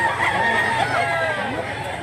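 A stag, a young rooster, crows close by at a cockfighting-bird sale in Mantalongon, Cebu, one short strained crow over background chatter.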